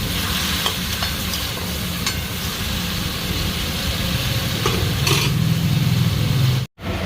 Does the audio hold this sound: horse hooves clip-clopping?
no